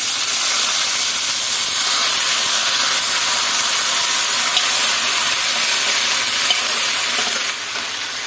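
A pinch of panch phoron spices sizzles in hot oil as a steady, close frying hiss that continues evenly throughout and dips slightly near the end.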